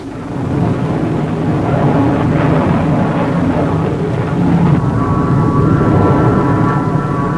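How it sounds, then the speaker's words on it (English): An RF-101 reconnaissance jet in flight gives a loud, continuous broadband roar that holds steady for several seconds and swells slightly near the end, with no talking. "Reconnaissance and the RF-101, the aircraft that played such an important role in the Cuban crisis."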